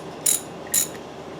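Two quick, close ratcheting bursts from a hand ratchet tightening the oil pump bolts on a 5.3 LS engine, each a sharp metallic clicking burst about half a second apart, in a quiet workshop.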